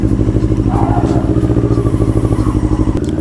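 A CFMoto NK400 motorcycle pulls away in first gear, its engine note steady, loud and close, with a rapid pulsing rhythm and a slight rise in pitch as it rides off.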